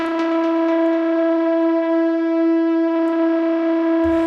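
Synth pluck tone for progressive house, its pulse width swept by a fast LFO into a gritty, distorted buzz; a single sustained bright harmonic note held steadily and loudly for about four seconds, with no voices.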